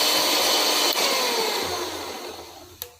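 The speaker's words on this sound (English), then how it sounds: "So we must turn off the mixer" An electric stand mixer winds down after being switched off, its loud broadband motor whir steadily fading over a few seconds, with a small click near the end.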